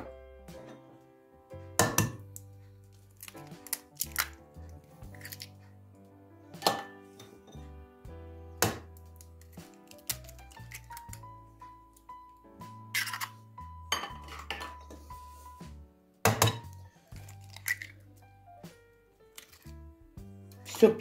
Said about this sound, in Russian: Вбиваем сюда 4 яйца.